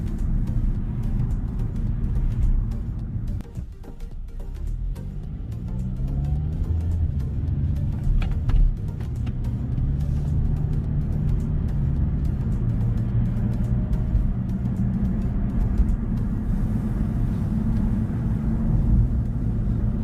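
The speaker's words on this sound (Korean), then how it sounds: "지금부터 저는 용산 후암동 종점까지 운전을 해 보도록 하겠습니다." Inside a car driving on city roads toward Huam-dong in Yongsan, Seoul: a steady low engine and road rumble runs throughout, with occasional faint knocks and shifts in tone.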